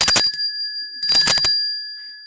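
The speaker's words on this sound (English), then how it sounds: "This piece of this metal making this ringing sound?" Two bright metallic rings from a small metal bell, one after the other about a second apart, each leaving a clear lingering tone.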